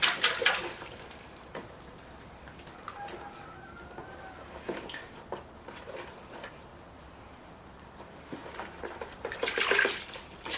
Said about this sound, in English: So I'll take one out at a time and I'll rinse the root system.